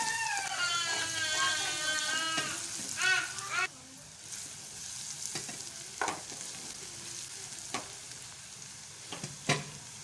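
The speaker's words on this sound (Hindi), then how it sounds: "अब हम इसमें अदरक और लहसुन का पेस्ट डाल के इसे अच्छे से फ्राई कर लेंगे।" Ginger and garlic paste frying in ghee as a tadka for sarson ka saag, a steady sizzle with occasional stirring clinks and scrapes, under faint background talk.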